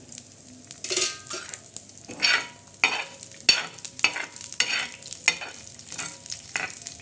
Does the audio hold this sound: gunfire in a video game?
no